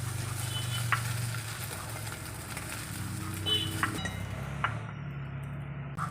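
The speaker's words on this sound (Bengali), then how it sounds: "মাছ ভাজা হয়েছে, মাছ তুলে নেব।" Small fresh fish caught from a paddy field fry in a pan with a soft, fairly quiet sizzle, broken by a few light clinks and stirring sounds.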